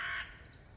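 A single crow caws once outdoors, a short, fairly close call that quickly fades into quiet natural background.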